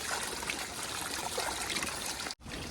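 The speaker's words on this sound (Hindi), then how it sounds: "मस्त तरीके से पानी आता है इधर बहुत ज़्यादा" Cold spring water runs steadily and close, a continuous bright trickling splash that cuts off abruptly for an instant near the end before resuming.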